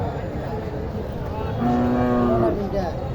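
A bull at a crowded cattle market for Qurbani lets out a loud, sustained moo lasting about a second, rising over the steady murmur of the surrounding market crowd.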